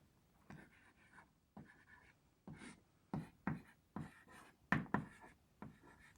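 Writing on a board during a physics lecture: irregular scratchy strokes in short bursts, some sharper than others, with brief pauses between them and no talking.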